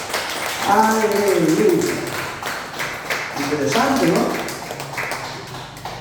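Church congregation applauding during a teaching-day service, a sustained round of clapping heard under a preacher's voice.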